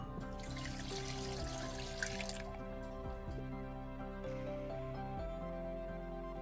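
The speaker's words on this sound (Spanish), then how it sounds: "estaré echándoles una taza de agua de nuestra cocción de los jitomates" A cup of tomato cooking water is poured into a blender while making zucchini fritters, with a rushing, splashy pour for a couple of seconds that settles into quieter trickling over a steady kitchen hum.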